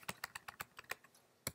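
Keys tapped on a computer keyboard while entering a page size, about ten crisp close clicks in a quick, slightly uneven rhythm, quiet and without talking.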